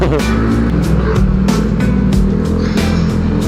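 Heavy road traffic on Sukat Service Road is heard from a motorcycle ride, with a steady loud engine drone, passing vehicles and wind rumble throughout.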